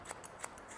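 Hairdressing scissors snip through hair while a short men's cut is trimmed, giving four or five quick, light metallic snips in a steady rhythm, close but faint against a quiet room.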